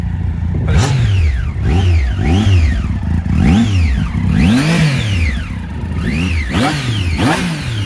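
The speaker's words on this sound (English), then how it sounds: "give us some revs" A motorcycle engine revs loudly and close by, its pitch surging up and dropping back repeatedly in quick successive throttle blips.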